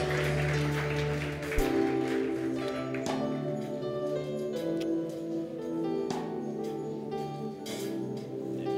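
Church congregation applauding in acclaim of Jesus Christ, a steady wash of clapping over sustained music, with no pauses.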